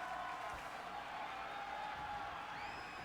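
Wrestling video game crowd cheering and applauding, a steady, fairly faint wash of arena noise with no distinct voices on top.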